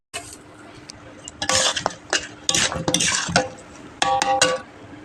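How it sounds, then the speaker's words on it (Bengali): Meat seasoned with salt and chili is stirred and fried in a pot in a village kitchen, with busy bursts of scraping, clattering utensil strokes and metallic clinks over a sizzle. "ভালো করে মাংসটাকে এবার কষিয়ে নেব বন্ধুরা।"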